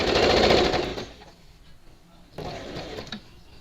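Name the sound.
sewing machine stitching a blouse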